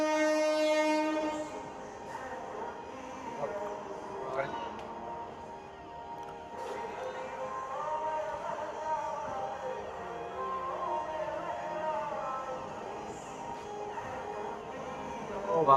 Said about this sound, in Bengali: ব্র্যান্ড নিউ LHB কোচ নিয়ে ঢুকছে গঙ্গাসাগর এক্সপ্রেস।